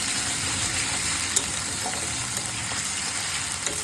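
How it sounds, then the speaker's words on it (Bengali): Spices fry in hot oil in a pan for a Bengali chicken kosha, giving a steady, close sizzle with a few faint clicks from stirring and no talk. "যতক্ষণ পর্যন্ত এটার কাঁচা স্মেলটা চলে না যায় ততক্ষণ পর্যন্ত এটা এভাবে নাড়াচাড়া বেঁচে থাকে"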